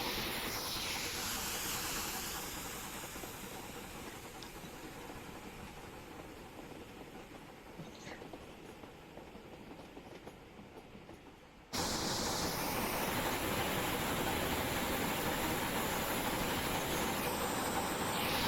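BR rebuilt Merchant Navy steam locomotive picking up speed in a train simulator game, a loud continuous steam hiss and rumble that eases off, then jumps back to full strength.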